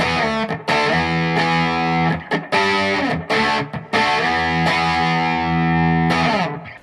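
An electric guitar played through an amp cabinet and picked up by a camera's built-in microphone rings out in distorted strummed chords and short breaks, loud and close with no talking.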